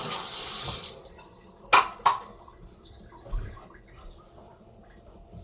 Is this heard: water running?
yes